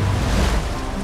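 Ocean swells and surf roll off a southern coast as a broad, steady wash of churning water and wind, loud and continuous, with no voices.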